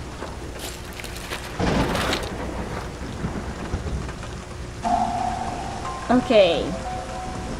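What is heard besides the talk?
thunderstorm and rain in video game 9 Clues 2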